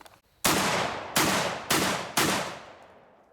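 Four loud shotgun blasts from a Mossberg 930 SPX firing Magnum shells, spaced roughly half a second apart, each a sharp crack with a ringing decay and no talking.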